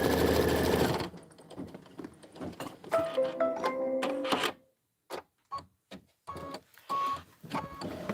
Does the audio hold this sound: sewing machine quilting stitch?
yes